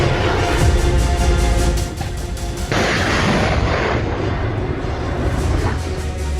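A Ukrainian Neptune missile strikes a Russian weapons depot, giving loud, continuous rumbling blasts and booming roar that shift abruptly partway through, with heavy low-end thunder sustained throughout.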